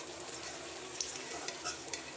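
Battered Malabar spinach leaf fritters fry in hot oil in a pan with a steady, even sizzle. A few faint utensil clinks sound close by, and no one speaks.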